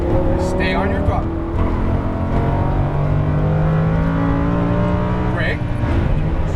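A Lamborghini Huracan engine accelerates on a race track, loud and close from onboard, its pitch climbing and dropping through gear changes while an instructor talks over it.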